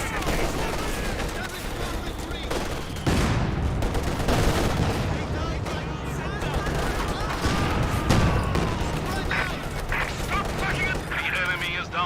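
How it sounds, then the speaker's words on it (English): Sustained heavy machine gun fire and scattered explosions on a Company of Heroes 2 battlefield, a dense rattling barrage with booms, loud throughout with voices talking over it. "We are taking heavy machine gun fire."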